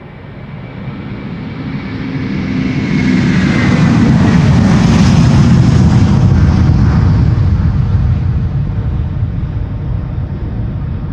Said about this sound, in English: Delta Airlines Flight 243 to Boston, Massachusetts on its way. A330-300, 17 years old